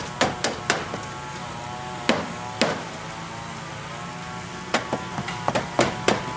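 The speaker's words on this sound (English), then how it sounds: "He's going to tack that down with some basic roofing nails." Hammer blows driving basic roofing nails to tack down edging during a full roof replacement, sharp close strikes in quick clusters of two or three with pauses between, over steady outdoor background noise.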